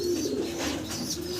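Exhibition pigeons at a farm cooing softly nearby, a low steady coo with faint chirps above, no talking.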